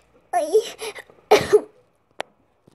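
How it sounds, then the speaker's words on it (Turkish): A voice gives a couple of short coughs close by, followed by a brief tap and near silence. "Sen öksürüyor musun?"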